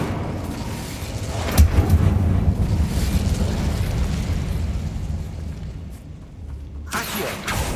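A fire spell is cast in the video game Hogwarts Legacy: a loud, booming burst erupts, then rumbles and crackles on for several seconds before a second sharp flare near the end.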